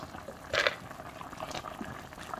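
Tomato, aubergine, chili and akpi sauce bubbling in a pot, a soft, quiet simmer with one brief louder burst of bubbling near the start, then faint steady gurgling.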